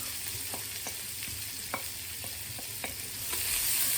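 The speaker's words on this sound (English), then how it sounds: "I'm going to fry it together with the pepper." Onion and pepper frying together in a small amount of oil, a quiet sizzle under a series of sharp spoon taps and scrapes in the pan, the frying growing louder toward the end.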